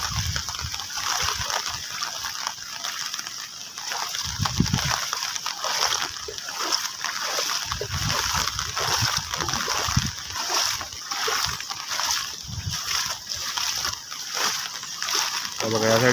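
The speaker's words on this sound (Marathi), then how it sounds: "बघा या साईडने पाणी भरपूर जातं" Rainwater rushes and splashes across a road during a heavy Konkan downpour, a continuous sloshing flow heard close by with someone talking over it throughout.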